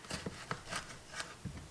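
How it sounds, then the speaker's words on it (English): A knife cuts two tomatoes in half on a cutting board in a home kitchen, giving a handful of soft, close thunks and slices spaced unevenly over a quiet moment. "I'm just gonna chop them in half"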